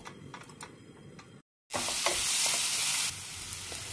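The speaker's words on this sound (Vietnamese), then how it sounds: "Cho dầu ăn vào trong chảo khoảng 3 muỗng canh. Cho cái phần tỏi ớt nãy mình xay vô." Garlic and chili sizzling in about three tablespoons of cooking oil in a frying pan, a quieter stir first, then a brief silence before a loud, steady, close sizzle that fades slightly toward the end.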